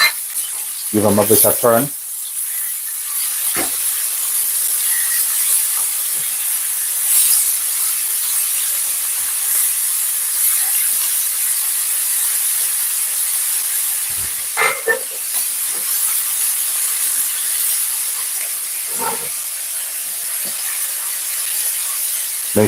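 Seasoned meat fries in a pan on a home stove, a steady loud sizzle running throughout, with occasional clatters and scrapes as pieces are turned and a voice speaking briefly over it.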